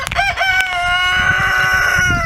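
Chickens in a small backyard chick pen give loud, close crowing and clucking calls, with a long drawn-out crow held steadily through most of the stretch and no talk over it.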